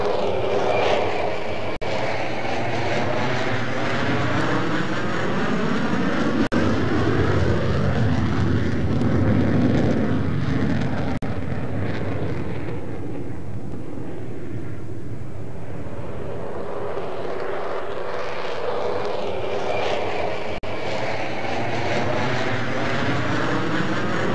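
A de Havilland Vampire early jet trainer flies past at the 1988 Australian Bicentennial Airshow at RAAF Base Richmond, a loud, sustained engine roar that swells and shifts in pitch as it passes, with no talking.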